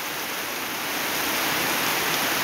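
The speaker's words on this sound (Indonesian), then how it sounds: "bunyi curahan hujan yang menimpa atap" Heavy rain pours onto a house roof in a quiet village, a steady, dense hiss that stays level throughout with no voices.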